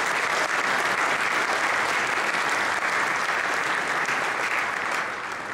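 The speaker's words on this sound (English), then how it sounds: "Give yourselves a round of applause on an excellent year here in the media industry." A large audience at a media industry event applauds, a dense steady round of clapping that holds evenly for several seconds before easing slightly.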